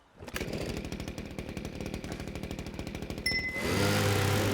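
A leaf blower in a video game blows leaves onto a tarp: a rapid, buzzing motor drone that starts abruptly, holds steady, then swells into a louder, fuller rush of air near the end.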